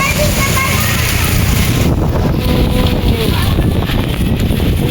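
Loud, steady wind roars and buffets the microphone throughout, with a rushing, splashy texture and no pauses.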